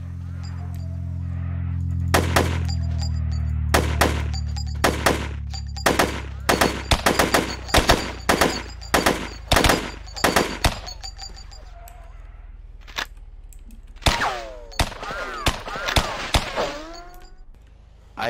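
AK-47 gunfire in the Sub Rosa video game: a rapid string of sharp, loud shots in bursts, with scattered single shots and impacts toward the end, over a low rumbling background.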